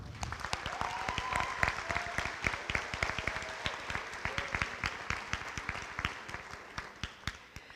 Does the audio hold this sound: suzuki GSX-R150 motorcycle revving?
no